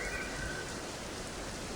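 Rain falls steadily after a fire has been put out, a soft even hiss of drops with no other sounds over it, faint and continuous.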